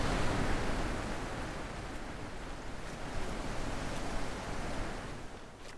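Continuous rushing water in The Witness: a dense, steady broadband wash like surf that swells slightly and then eases, with no voices over it.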